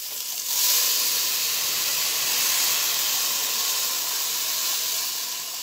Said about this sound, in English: How's that for some steam?